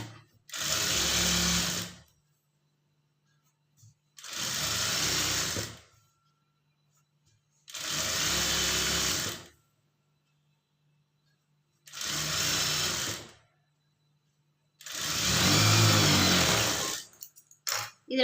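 Sewing machine stitching blouse cloth, running in five loud bursts of rapid, steady whirring, each lasting about two seconds with short quiet pauses between.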